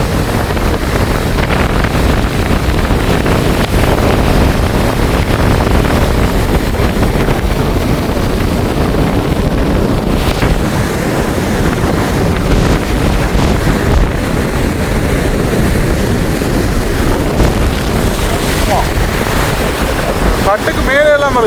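Storm waves crash and wind roars without letup along the Jaffna coast during a cyclone, with fishing boats pulled up on the shore. The loud, dense surge of surf and wind noise fills the scene, and a voice speaks briefly near the end.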